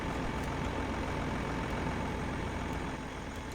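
An engine idles in neutral with a dense, steady rumble, loud and unchanging throughout, with no voices.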